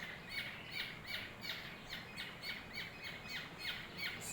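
A baby bird being hand-fed gives a quick run of rhythmic, high-pitched squawks, about two per second, fairly faint against a soft background hiss.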